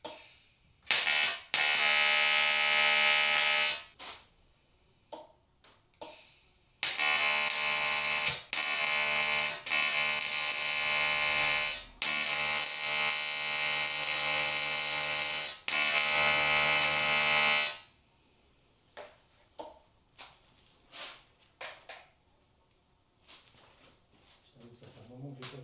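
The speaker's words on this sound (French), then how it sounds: "On va essayer de ressouder quand même le trou qu'il y a sur le puits d'injecteur" A hole in a Honda intake manifold's injector well is being welded. Two long runs of harsh, loud buzzing crackle are separated by a short pause, then give way to quieter handling noises and talk.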